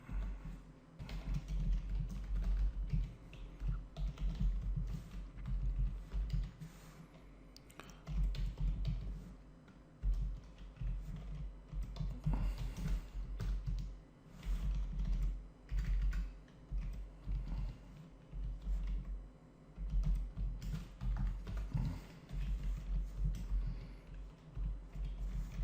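Fingers type on a computer keyboard in continuous clattering runs of quick key taps with brief pauses, moderately close and alone.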